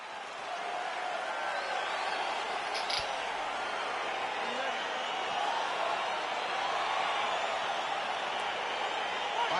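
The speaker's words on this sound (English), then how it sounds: "Crowd getting excited as this fight gets underway" Crowd at a UFC 4 lightweight bout gives a steady, dense roar of cheering that fills the arena and holds evenly throughout, with no break or single standout shout.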